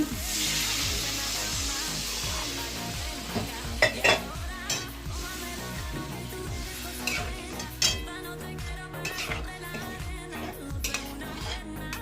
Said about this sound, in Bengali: দেখো কষা হয়ে গেছে, আমি জল দিয়ে দিচ্ছি